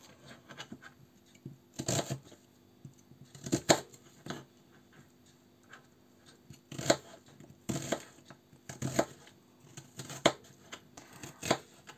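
A knife strikes a cutting board in short bursts of rapid chopping as an onion is cut into small cubes, with pauses between the bursts. The sound is close and fairly quiet, and no one speaks.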